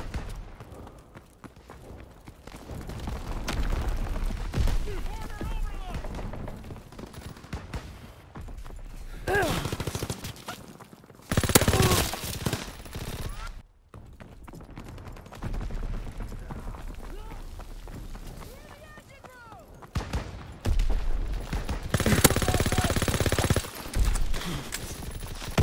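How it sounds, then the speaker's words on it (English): Heavy gunfire in the World War II shooter Call of Duty: WWII, with dense bursts of rifle and machine-gun fire, loud and close, coming in surges with brief lulls between them. Battle voices are heard under the shots. "Opening fire!"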